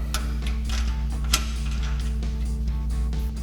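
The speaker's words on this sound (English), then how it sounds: "use our 21 millimeter socket to help get it in" A ratchet with a 21 millimeter socket tightens a nut while a 2.50-inch front leveling kit goes onto a Jeep Gladiator JT, giving a steady run of faint clicks over a constant low hum.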